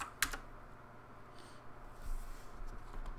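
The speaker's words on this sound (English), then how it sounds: "So I'm going to type look." Faint computer keyboard typing for a MUD game, a few quiet scattered key clicks in a hushed room, no talking.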